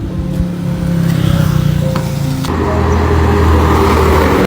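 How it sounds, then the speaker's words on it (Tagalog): A car on a road nearby, its steady engine and tyre noise swelling as it approaches, a continuous rumble filling the whole stretch with no talk over it. "May paparating na sasakyan!"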